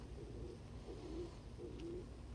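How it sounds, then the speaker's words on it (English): A pet bird coos softly indoors, three low, rounded coos repeating at a slow, steady pace over a faint background hum, close to the listener with no talking. "Oh, you hear the coo."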